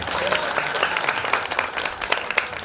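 Audience applause at a devotional bhajan gathering, a dense and steady wash of many clapping hands close by, with faint voices underneath.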